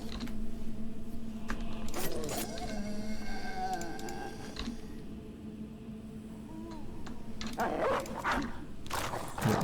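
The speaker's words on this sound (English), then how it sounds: "Let the doggy get his attack in." Dog attack in the video game Band of Poachers: growling, barking game effects and mechanical clanks over steady background game music, moderately loud, with bursts of impact noise near the end.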